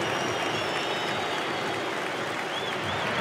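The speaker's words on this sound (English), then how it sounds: "Milos Ninkovic takes his leave to a chorus of boos from the Sydney FC fans" Sydney FC football fans in a stadium crowd booing a departing opposing player, a sustained dense roar of voices filling the space from start to finish.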